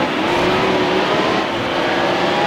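Race cars in NASCAR Heat Evolution at Sonoma roar as they accelerate off the green flag, a dense, loud, steady engine drone with rising pitch and no talk.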